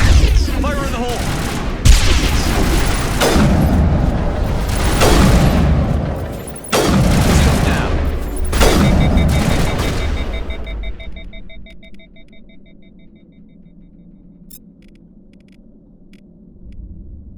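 Grenade explosions and gunfire in the Mass Effect video game: several heavy booms and bursts of shooting over the first ten seconds, with a voice heard among them, fading into a quieter rumble with faint electronic tones.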